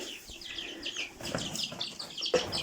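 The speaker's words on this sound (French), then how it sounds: "c'est des poussins que j'ai achetés" Small Ardennes chicks peep in quick, high chirps that come and go over soft background noise, with a sharper cheep near the end.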